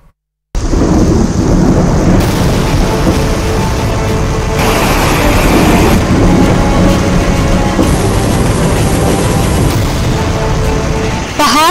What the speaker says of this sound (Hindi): पहाड़ों पर हो रही भारी बारिश